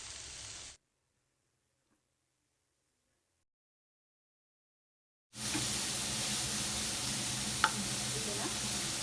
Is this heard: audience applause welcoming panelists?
no